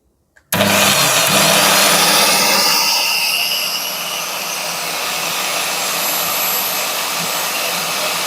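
A DCA S1P-FF-180 7-inch polisher grinder switches on abruptly after a brief silence and a small click. Its motor spins up into a loud, steady high-pitched whine that holds near and constant.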